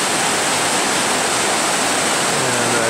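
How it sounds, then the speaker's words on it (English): Maeya Waterfall in Thailand pours with a dense, continuous roar of falling water, close and unbroken, with no voices. "so that is Maeya Waterfall."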